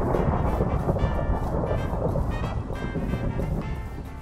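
Thunder from lightning striking a lightning rod in Minecraft, a loud, continuous rumbling roar that slowly fades over about four seconds with no speech.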